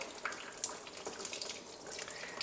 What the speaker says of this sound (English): listen, all areas, all things, there are constantly draining fluid